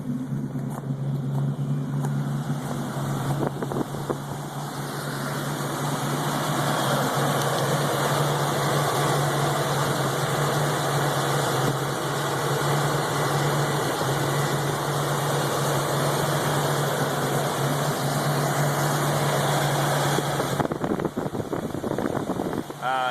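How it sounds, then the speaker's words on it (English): A 1973 Ford Mustang 351C-2V V8 engine idles with a steady low rumble and constant hum, close by, running on without pause amid some wind noise. "Let you see the motor running."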